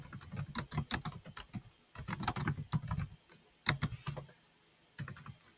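Typing on a computer keyboard, close and clear, in irregular bursts of rapid keystrokes broken by short pauses.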